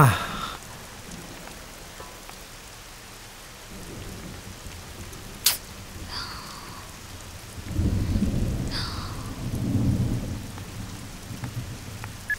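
Heavy rain pours steadily with a sharp nearby thunder crack and later rumbling bursts of thunder, loud and continuous with no talk over it.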